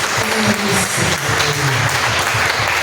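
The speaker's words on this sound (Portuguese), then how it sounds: "Vamos aplaudir bem forte ao Senhor Jesus." A church congregation claps loudly in praise during a sermon, a dense burst of many hands with a sung or hummed tone and voices mixed underneath.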